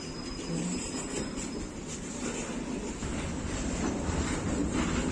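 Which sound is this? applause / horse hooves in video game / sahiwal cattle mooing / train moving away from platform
train moving away from platform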